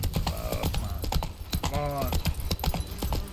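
Horse hooves clip-clop in a quick steady rhythm as a mount is ridden in The Witcher 3 video game, sharp close hoof strikes with a neigh rising midway and a brief spoken word over the top.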